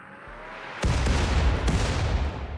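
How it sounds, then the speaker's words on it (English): Mortar fire in the video game RimWorld, a single heavy boom that kicks in abruptly and stays loud, with a couple of sharp follow-up reports riding over a dense rumbling roar. "Oh, mortar's away."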